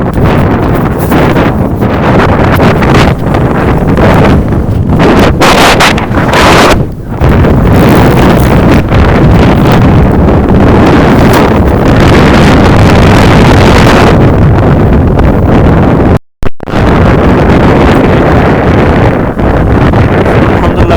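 Strong wind buffets the microphone in the Aqeeq Valley near the Jamawat mountains of Madinah, a loud, continuous roaring rush with gusting surges and one brief drop partway through.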